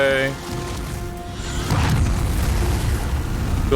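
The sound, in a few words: explosion in a video game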